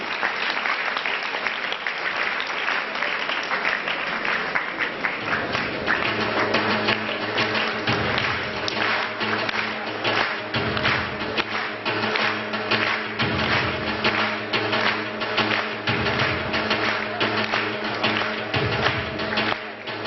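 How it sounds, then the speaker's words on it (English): A hall full of people at a medical students' conference gives a long round of applause, dense continuous clapping that stays strong throughout, with a faint musical tone emerging midway. "A big round of applause for Dr. Bipin Doshi."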